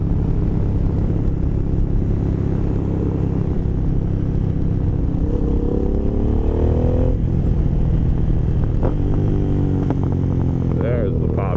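An Aprilia Caponord 1200 fitted with a GPR exhaust rumbles loudly and close, its engine note rising and falling, with a few sharp pops crackling through as the throttle closes on overrun.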